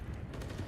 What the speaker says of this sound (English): That's the first exchange of gunfire on the map.